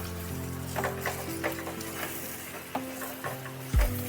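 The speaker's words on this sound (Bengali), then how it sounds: "গাটি কচুগুলো দিয়ে ভালোভাবে নাড়াচাড়া করতে হবে।" Boiled taro pieces are stirred in a frying pan with spices, a steady sizzle broken by several scraping, clacking spoon strokes at irregular intervals and one heavier knock near the end, close by.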